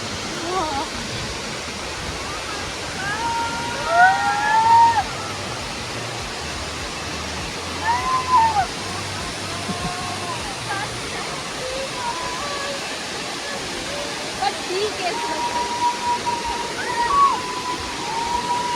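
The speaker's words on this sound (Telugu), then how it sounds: "After 1 hour struggle we reached to Hebbe Falls." Hebbe Falls waterfall in Chikkamagaluru, Karnataka: a steady, full roar of falling water fills the whole 19 seconds, with a few faint voices rising briefly over it.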